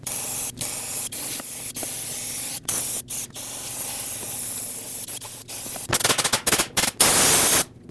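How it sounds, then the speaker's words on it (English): Brake parts cleaner sprayed onto a Lexus IS250 engine during a water pump job, heard as a run of short, close hissing aerosol bursts that turn into longer, louder sprays toward the end. "let's get some brake parts cleaner, a wire brush, and just very quickly try to clean this a little bit"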